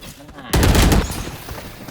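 Burst of rapid gunfire in the shooter game Valorant, a loud crackling volley that breaks in suddenly and then tails off into lingering reverb and game noise.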